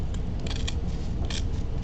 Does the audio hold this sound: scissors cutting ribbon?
yes